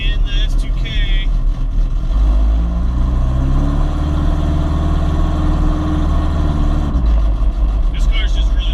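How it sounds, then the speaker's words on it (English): A Honda S2000 sports car with a newly finished exhaust idles loud and close, a dense low drone that rises into a steadier higher hum midway before settling back; talk is mixed in. "This car's just really loud"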